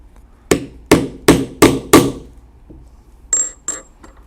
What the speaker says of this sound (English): put the cap in place, and set it with the rivet setter